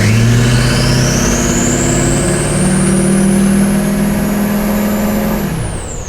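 A Duramax diesel engine swapped into a K20 truck revs through a loud, sustained half-throttle pull, a rising whine riding over the deep engine drone before it drops off at the end.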